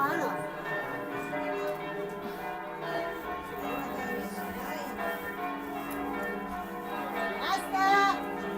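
Church bells ring for mass, a sustained layered metallic chiming with overlapping tones carrying on throughout, with distant voices and children faintly underneath.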